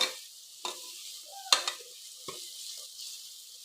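Ground cinnamon, clove and fennel spice powder frying in oil in a pan, with a faint steady sizzle broken by a few sharp stirring scrapes and clinks.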